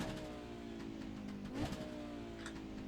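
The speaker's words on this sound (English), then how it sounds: "Let's try the engine out." An Audi 90 GTO race car engine in the iRacing sim revs steadily and loud, with a rising surge of throttle near the middle before settling back to a rough idle drone.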